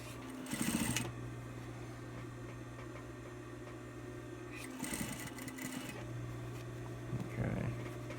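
A sewing machine stitches hat panel pieces, running a steady hum throughout, with a few short louder bursts of faster stitching near the start, middle and end.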